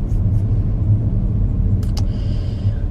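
Car driven on a road near an airport, a steady low engine and road rumble heard from inside the cabin, with a couple of faint clicks partway through.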